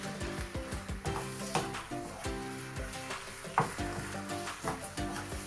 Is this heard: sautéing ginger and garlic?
yes